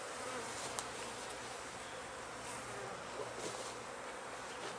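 Honeybees from a queen-rearing hive buzz in a soft, continuous drone, close but faint, with no voices.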